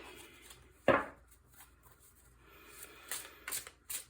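Tarot cards are shuffled close by, with one sharp riffle snap followed by soft scattered flicks and taps of the cards.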